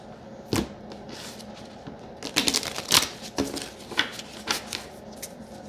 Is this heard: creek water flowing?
no